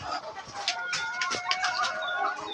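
Chickens clucking and calling steadily inside a backyard chicken coop, several birds overlapping at close range with a few sharper squawks, with no talk.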